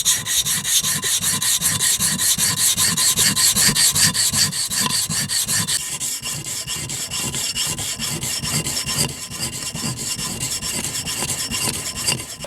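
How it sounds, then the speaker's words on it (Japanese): A leather-cutting knife, a shoe repairer's tool, being sharpened on a wet diamond file, with close, rhythmic rasping strokes repeating steadily back and forth. "これダイヤモンドヤスリっていうものですね。"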